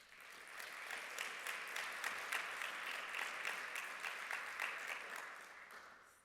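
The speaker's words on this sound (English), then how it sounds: "Would you kindly give another round of applause for all of them?" An audience at a conference's closing remarks applauds its presenters and moderators, steady clapping from a modest crowd with some individual sharp claps standing out, swelling slightly and then tapering off at the end.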